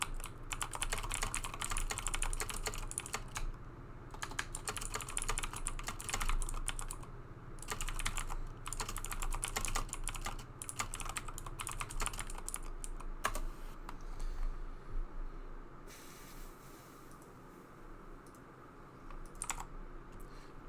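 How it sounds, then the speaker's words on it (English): Steady, rapid clicking of computer keyboard typing in The Hundred Line: Last Defense Academy video game, fairly quiet and continuous with a brief pause near the end. "Just typing something up."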